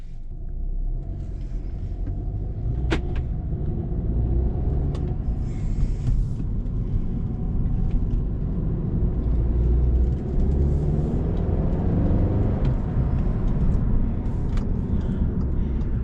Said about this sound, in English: So let's go ahead and drive this car